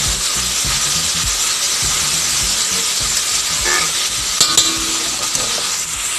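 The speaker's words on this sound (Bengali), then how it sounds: "এবার আমরা এই মশলাটাকে ভালোভাবে কষিয়ে নিচ্ছি" A ground spice paste fries in a pan while being stirred, producing a loud steady sizzle and hiss with repeated scraping strokes of the spoon, no voices present.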